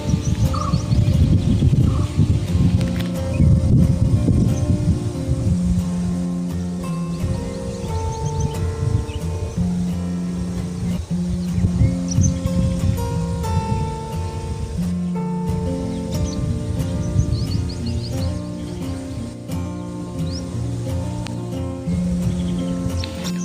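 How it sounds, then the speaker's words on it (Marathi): Birds call in a rural forest, with repeated chirps, tweets and dove-like coos scattered throughout at moderate distance over a steady low woodland hum, and no talking. "पक्षी बघा इकडे खालती ओरडतात किती ते."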